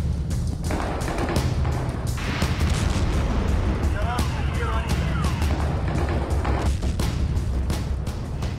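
Explosions from Shahed drone attacks on Kyiv during the Russia–Ukraine war, heard as repeated dull booms and thuds within dense, noisy ambient rumble, with faint voices underneath.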